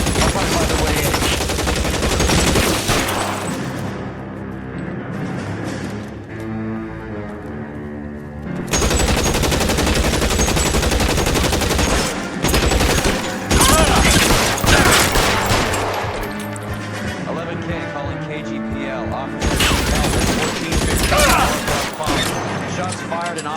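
Sustained gunfire in L.A. Noire during an officers-need-help shootout: heavy overlapping volleys and bursts, loud and close, with brief lulls between long exchanges and radio-style voices heard among the shots.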